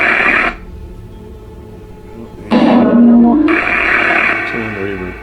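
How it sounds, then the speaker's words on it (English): Bursts of broadband hiss, like static white noise, switch on and off, with a person speaking over and between them. "let's do some white noise."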